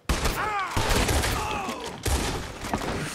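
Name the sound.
gunfire in the video game Red Dead Redemption 2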